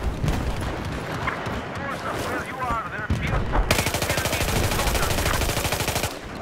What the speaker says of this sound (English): That tank is shooting me.